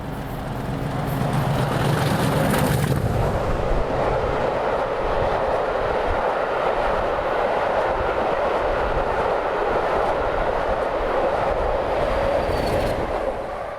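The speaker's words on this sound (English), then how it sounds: "now in top and tail formation, 50007, which was masquerading as Long Scrap's sister 50034 Furious, with 50049 Defiance on the rear, stormed through Newton St Sires." Class 50 diesel locomotives 50007 and 50049, working top and tail, thunder past at Newton St Cyres with a loud, sustained engine roar and rumbling wheel noise filling the whole stretch.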